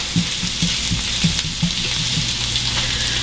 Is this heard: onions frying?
yes